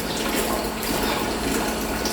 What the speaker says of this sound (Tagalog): yung tubig na nandyan ay everyday din natin ilalagay sa sa drum